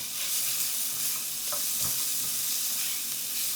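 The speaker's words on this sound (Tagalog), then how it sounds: "maggisa tayo ng sibuyas. Sunod naman yung bawang." Onion and garlic sautéing in a pan, a dense, even hiss of hot oil filling the whole stretch, close and constant, with a couple of faint utensil knocks and no talking.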